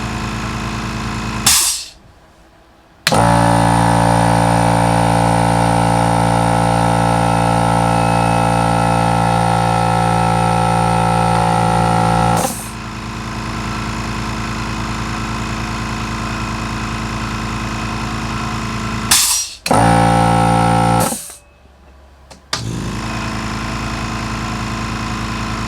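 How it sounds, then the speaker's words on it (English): A Husky 4.5 gallon quiet job site air compressor runs steadily at close range, a loud continuous motor hum that cuts out abruptly several times with short gaps before restarting. "we turn on the new one and try to talk, and you can hear me a lot better, I believe, with this compressor."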